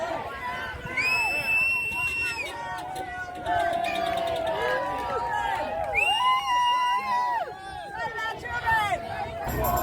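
Thousands gathered at an anti-mandate rally in Newcastle cheer, whoop and chant in a loud outdoor roar, with rising shouts and whistles swelling in waves and voices talking among the crowd.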